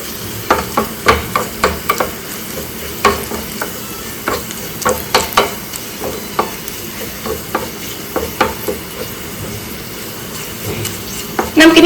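A steady sizzle with frequent stirring clatter as onion and curry leaves fry in a pan with Kashmiri chili powder added, continuous and close, with no talking.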